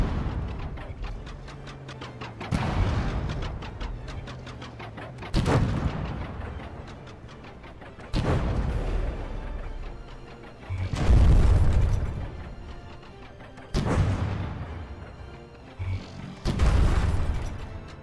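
Tank turret detonations in the video game From The Depths: a series of six heavy booming blasts at roughly three-second intervals, each a loud broadband burst trailing off into rumbling, with a low mechanical hum between them.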